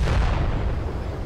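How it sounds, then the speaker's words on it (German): A rocket explosion in World of Tanks on Xbox, a heavy, low booming blast that rumbles and slowly decays across the whole moment, loud with no voices over it. "Da kommt eine Rakete."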